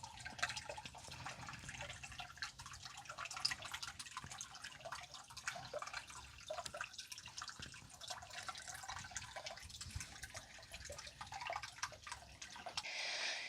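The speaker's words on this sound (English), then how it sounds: "I'm by the stream. I don't know if it's running well enough that you can pick up the sound of the water" A stream in a desert wash runs with a soft, continuous trickle and faint dripping, steady and quiet throughout with no voices.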